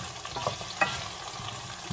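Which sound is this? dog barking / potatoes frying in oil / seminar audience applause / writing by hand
potatoes frying in oil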